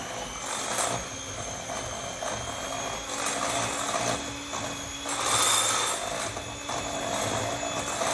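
Eggs for a bourbon chocolate nut pie being beaten in a bowl, a steady scraping, rubbing churn that runs continuously at close range with a brief louder swell near the end and no talking.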